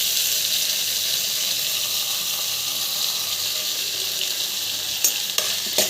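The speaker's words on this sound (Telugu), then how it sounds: "చూసారా, వేగుతున్నాయి." Mixed vegetables and cabbage frying in a pan, giving a loud, continuous hissing sizzle throughout with a couple of brief clatters of tossing near the end, no talking.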